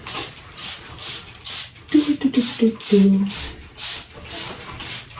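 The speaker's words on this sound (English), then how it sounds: "And I always spray the floor in it." Repeated short hissing sprays from a trigger bottle of cleaner onto a shower floor in an even rhythm, close by, with a person speaking briefly partway through.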